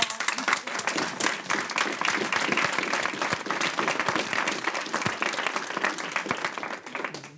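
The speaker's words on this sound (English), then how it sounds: "So all of you deserve a round of applause." A room of attendees at a school district board of education meeting gives teachers a long, dense round of applause. The clapping is sustained and fairly loud, holds evenly throughout, then tapers at the very end.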